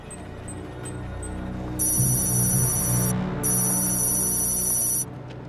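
A telephone rings twice in long electronic bursts separated by a brief pause, over a low background rumble.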